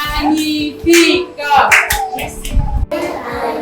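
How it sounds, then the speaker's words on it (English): An audience of schoolchildren claps after a child's recitation in a classroom, a burst of quick clapping mixed with the clap of a few hands and voices talking over it. "applaudissez pour Chérie Laurier"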